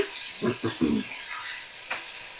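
Spice paste with ground cumin, turmeric and salt is stirred and fried in a pan, giving a soft sizzle with a few short scraping stirs close by and no talking.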